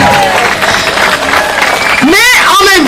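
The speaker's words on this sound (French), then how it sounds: "On leur donne un petit peu d'applaudissement." A crowd claps in steady applause under a loud voice speaking, with another voice rising near the end.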